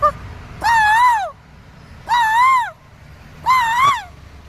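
Koel, a cuckoo, calling in three loud, clear, evenly spaced calls, each a drawn-out rising and falling note of about half a second, alone over a faint low background.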